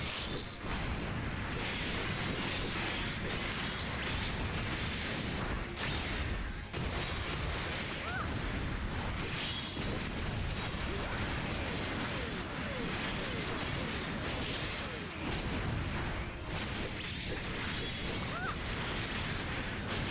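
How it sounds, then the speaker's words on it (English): Missile pods firing in the mecha game Gundam Breaker 3, a dense, continuous barrage of loud blasts and crashing impacts with no pauses. "Boom, hit him with the missiles."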